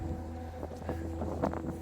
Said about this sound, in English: Wind gusts. They're here.